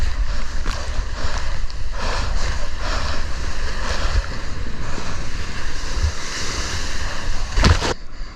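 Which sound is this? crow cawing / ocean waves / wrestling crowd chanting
ocean waves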